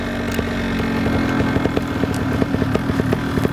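A Vittorazi paramotor engine warms up outdoors in wind, a loud, continuous buzzing two-stroke drone close by, with rapid popping pulses and wind buffeting the microphone.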